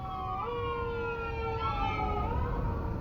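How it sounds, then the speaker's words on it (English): An ambulance siren wails nearby, its rising and falling tones sliding in pitch as it passes, heard over low traffic rumble. "Yeah, there's an ambulance coming."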